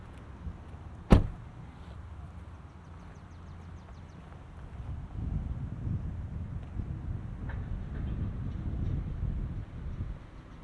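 A 2022 Hyundai Ioniq 5 shuts with one sharp, close thunk early on, followed by a low rumbling ambient noise that swells in the second half, with no talking.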